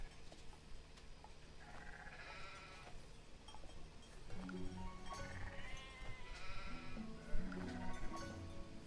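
Sheep in the farming game Farm Together 2 bleat repeatedly at moderate distance, several overlapping wavering calls rising and falling over a quiet background.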